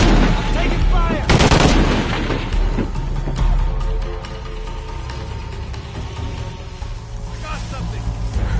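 Gunfire in Shadow of the Tomb Raider: a loud burst of shots near the start, then scattered reports trailing off under in-game voices and background rumble.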